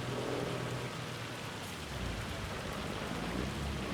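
Heavy rain and hail in the Farming Simulator 25 video game, a dense, constant hiss of downpour with a low rumbling undertone, steady and fairly quiet throughout.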